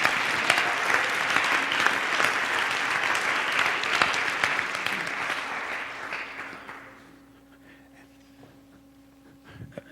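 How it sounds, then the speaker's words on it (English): An audience applauds contestants with steady, dense clapping that holds for several seconds and then fades out, leaving near silence. "Give them a round of applause for implementing."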